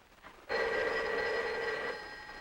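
A telephone bell rings in an office in a 1948 film, one sustained loud electric ring starting abruptly and fading slightly at the end, heard alone without talk.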